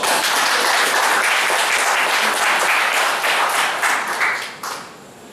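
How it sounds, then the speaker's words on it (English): Seminar attendees at a goal setting training session give sustained loud applause that thins out and fades near the end. "You deserve a huge round of applause."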